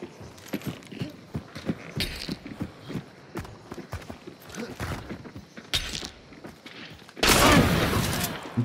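Rapid gunshots in a bounty hunt video game, scattered cracks and bursts over several seconds, with a loud burst near the end.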